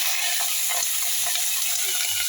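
Prawns frying in hot oil in a pan, with a steady, close sizzle and soft crackle throughout, faint stirring knocks beneath and no voices.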